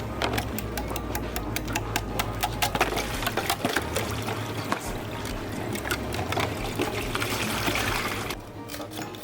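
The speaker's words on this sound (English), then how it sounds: "Turn the cooler upside down over a sink or a bucket of some sort and pour off the excess water" Excess water pours from an upside-down cooler into a sink, an uneven splashing and gurgling stream with rapid clattering drips that thins out near the end.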